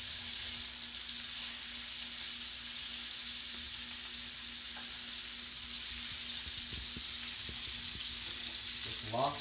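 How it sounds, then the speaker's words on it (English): Venison backstrap sears in butter and oil in a cast iron pan, giving a steady, close sizzle that runs unbroken with faint clinks now and then. "With that butter and oil, we just want to really sear that outside real good."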